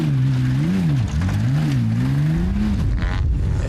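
A Lexus V8 engine in a 4x4 trials truck revs hard at a muddy club trials round in Feilding, New Zealand, with a loud, steady roar whose pitch rises and falls over a few seconds, close by with no talk.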